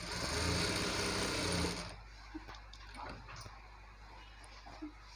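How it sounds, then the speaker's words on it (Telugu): A sewing machine runs steadily for under two seconds, stitching a designer blouse, then stops, leaving faint handling clicks and rustles of fabric. "ఇటువైపు ఒక స్టిచ్, ఇటువైపు ఒక స్టిచ్ వేసి కొంచెం లాస్ట్ వరకు దీన్ని ఇలా కుట్టుకుంటూ రావాలి"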